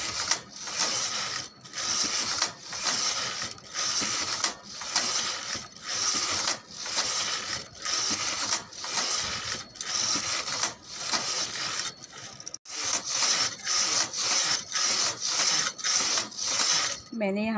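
A knitting machine's carriage is pushed back and forth across rows of a baby sweater, giving repeated rhythmic clattering sweeps, each lasting about a second, continuing steadily and close with a brief pause midway.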